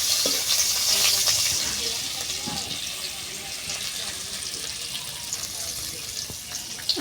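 Onions fry in a pan for a shidol bharta, giving a steady, close hiss and crackle that stays fairly even throughout, with faint kitchen clatter underneath.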